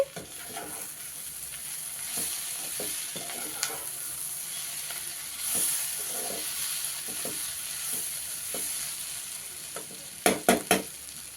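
Cluster bean tempering sizzles quietly in a pan while being stirred, with scattered scraping clicks from the spoon and a few sharper knocks near the end; no talk.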